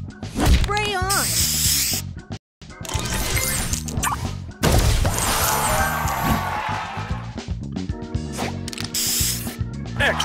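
Spray booster effect in the Match Masters mobile puzzle game: loud, busy bursts of hissing spray and sparkling chimes layered with game music, briefly cutting to silence midway before a sustained shimmering sweep, with an announcer voice calling out.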